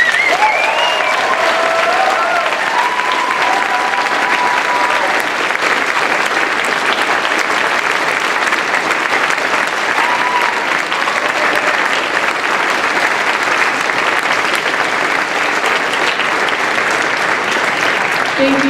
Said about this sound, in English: Please give them a huge, well-deserved round of applause.